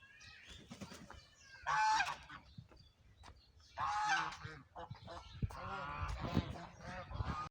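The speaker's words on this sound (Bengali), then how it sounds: "আমাদের এলাকায় 4-5টা রাজহাঁস আসে, এই দেখেন।" Four or five domestic geese honk outdoors in loud, harsh bursts, with quieter calls and rustling between them.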